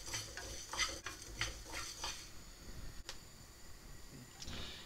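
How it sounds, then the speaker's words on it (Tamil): Whole coriander seeds and black pepper dry-roasting in a pan over a medium flame, with a soft rattle of rhythmic stirring scrapes, a sharp clack near the end and no talk. "ஸோ இதை போட்டு நம்ம ஒரு மிதமான தீயில் லேசாக வாட்டி எடுத்துக்கலாம்."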